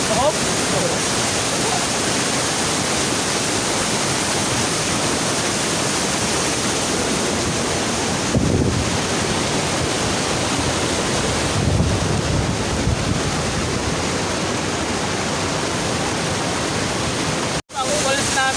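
Mayatoy Falls pours in a constant heavy roar of rushing water with wind noise on the microphone, steady for the whole stretch and close enough to be loud, with a brief dropout near the end.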